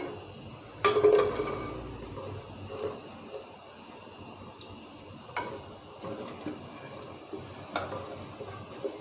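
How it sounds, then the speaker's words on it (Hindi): Marinated fried chicken goes into a pan of garlic frying until it colours. A steady sizzle runs throughout, with a louder burst and a metallic clatter when the chicken lands, then scattered scraping and stirring knocks. "चिकन जो हमने मैरिनेट करके फ्राई किया है वो इसमें डालूंगी मैं।"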